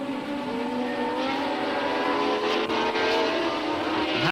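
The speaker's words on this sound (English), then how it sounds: "Jarier in the shadow with its Cosworth DFV engine taking up the running in third place" A 1976 Shadow Formula One race car with a Cosworth DFV engine races past, its high, steady engine howl loud and continuous without a break.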